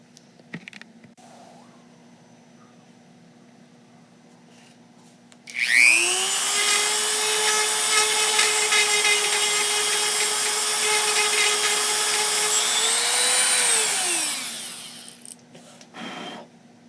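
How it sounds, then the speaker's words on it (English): A power drill drives a screw into a phaser prop. After a quiet start it whirs up sharply, holds a loud, steady whine for about nine seconds, then winds down back to quiet. "I gotta take this screw and drill it into here"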